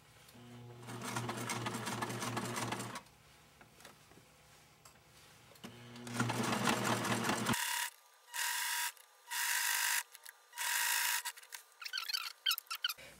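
A sewing machine stitches fabric doll pieces slowly around a curve, running in several bursts with short pauses between them, the later runs louder and more clipped, with no talking.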